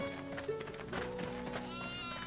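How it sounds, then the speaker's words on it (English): Black sheep bleating in the video game RuneScape 3, a short near bleat over faint game ambience, with a brief tonal chime near the end. "There's only 2 black sheep here?"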